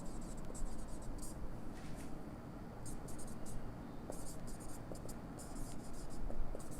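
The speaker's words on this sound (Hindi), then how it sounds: "मैं चलिए फॉर्मूला लिख देता हूँ" A formula is handwritten during a Class 12 maths lesson on definite integrals, giving soft, continuous scratchy strokes with short bursts of sharper scraping against a low steady background hiss.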